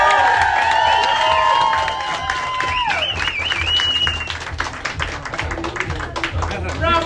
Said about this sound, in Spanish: Quiero dar, por favor, un fuerte aplauso a Jessica Williams.